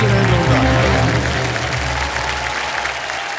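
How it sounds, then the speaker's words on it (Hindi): Studio audience on the KBC television quiz show applauds loudly, a dense, continuous wash of clapping that holds steady throughout and tapers only slightly at the end. "बहुत बहुत बधाई आपको, और तालियां बजती रहें जोरदार।"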